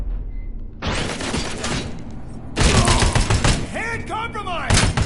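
Gunfire rings out in the RoboCop: Rogue City video game, with dense bursts of shots, loud and close, separated by brief pauses, while game sounds fill the background.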